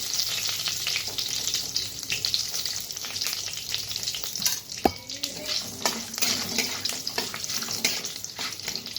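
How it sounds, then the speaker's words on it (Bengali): Bay leaf and dried red chilli fry in hot oil as a tempering, a steady close sizzle and crackle running throughout with a brief clink of a utensil midway. "তো এই একই তালে আমি তেজপাতা আর শুকনা লঙ্কা আর ফোড়ন"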